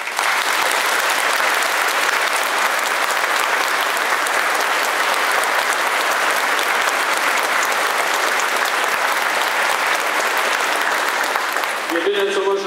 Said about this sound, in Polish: A tym, którzy po raz pierwszy brali udział w tym koncercie, szczególne brawa.